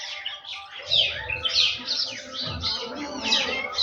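Several birds chirping and tweeting in a mango tree, overlapping bright calls in quick irregular bursts, fairly close and clear, with faint low background rumble.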